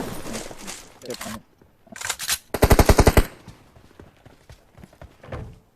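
Rapid automatic gunfire in the mobile game PUBG Mobile rings out in a short, loud burst of evenly spaced shots, preceded and followed by quieter game clatter and a player's talk.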